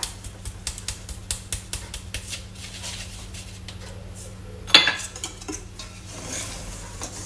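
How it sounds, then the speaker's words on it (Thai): A utensil stirring beetroot chiffon cake batter with cake flour and baking powder in a bowl, giving rhythmic scraping taps against the bowl, then steady swirling, one louder clink near the end, close up over a constant low hum. "คนให้พอเข้ากันจนเนียน"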